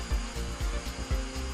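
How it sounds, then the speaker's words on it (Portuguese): A pantograph machine cuts into the top of an aluminum KM005 extrusion profile, giving a rough, grinding buzz that pulses in several short bursts of cutting at moderate loudness. "Usando o pantógrafo no perfil KM005, realizar a usinagem no seu topo"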